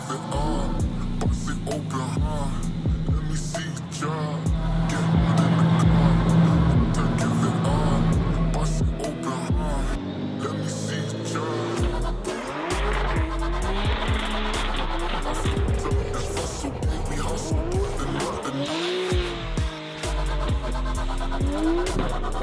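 Drift cars in RDS Open tandem drifting roar and rev hard as the tires squeal. The engine noise is loud and continuous, with pitch sweeping up and down throughout.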